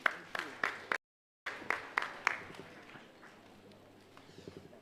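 A ceremony crowd claps for an award winner at Kampala Innovation Week 2021, several sharp bursts of applause with a short gap, then fading into scattered softer claps.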